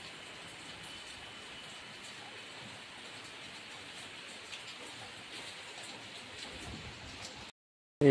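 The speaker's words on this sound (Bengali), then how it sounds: "এই বৃষ্টি অনেক বৃষ্টি পড়ছে" Heavy rain falls steadily outdoors as a dense, even wash of drops, close and constant throughout, before it suddenly cuts to silence near the end.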